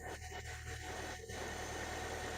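A car engine idles while driving a power steering pump, giving a faint, steady low hum with a light rattle and a few brief knocks early on, with no talk.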